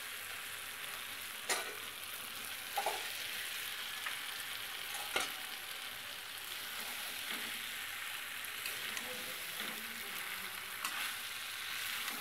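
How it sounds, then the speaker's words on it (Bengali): Jackfruit fries in a pan for a vegetarian dish, sizzling steadily while a spoon stirs it with occasional sharp scrapes and taps against the pan. "এঁচোড়টা দিয়ে আরেকটু ভালো করে কষিয়ে নেব।"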